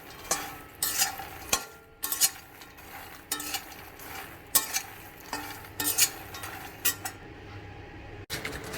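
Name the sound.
stirring onion masala makhana in a pan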